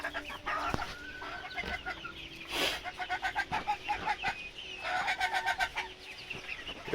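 Blue Andalusian chickens, splash and blue birds in a young flock, cluck steadily in a barnyard. Calls overlap in quick rhythmic bursts with an occasional louder squawk, close by and with no talking.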